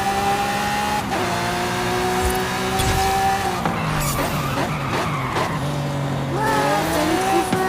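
Racing cars in Forza Horizon 5 roar at high revs, with shifting engine pitch, gear changes and bursts of tire squeal and skidding, loud and continuous throughout.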